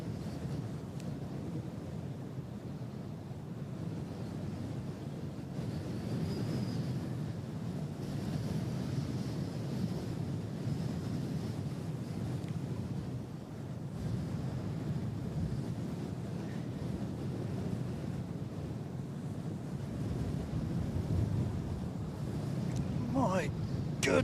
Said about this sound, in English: My goodness, that wind.